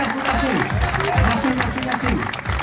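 Applause for a restaurant's serving team at a director's cocktail reception in Marrakech: a short burst of clapping from a small crowd, with voices over it.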